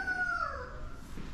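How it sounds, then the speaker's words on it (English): A single rooster crows once at moderate distance, the call sliding downward and fading over about a second, outdoors near a Kioti CK3510 HST tractor. "Oh, there is my rooster, or Brittany's rooster."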